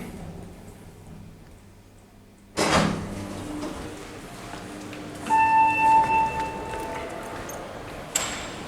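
Lift doors at the lobby of the Majestic Centre in Wellington thud shut, then a clear electronic chime rings out in a short sustained tone, followed by another sharp click near the end amid quiet building hum.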